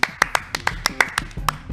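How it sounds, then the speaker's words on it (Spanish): Short burst of applause for a professor, a few people clapping in crisp, close, separate claps at an irregular rhythm. "fuerte el aplauso"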